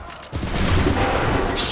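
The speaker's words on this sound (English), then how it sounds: "Open fire." A loud musket volley in an Assassin's Creed 3 battle rings out after a brief quiet start, a dense burst of gunfire that rolls on with a sustained rumbling crackle.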